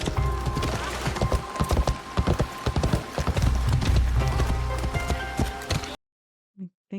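Galloping horse hooves in the video game Assassin's Creed Shadows, rapid loud clip-clop beats with rumbling movement for about six seconds, then near silence with a couple of faint brief sounds.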